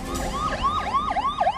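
An ambulance siren wails through a road amid a farmers' protest, its rising and falling tone repeating in a quick steady cycle at fairly close range, with traffic rumble beneath and no talk.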